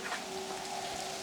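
Rain falling outdoors on a wet day, a faint, steady patter and hiss in the background with no talking.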